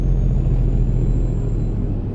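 Truck air brakes in American Truck Simulator, a loud steady hiss with low engine rumble beneath, continuous for about two seconds.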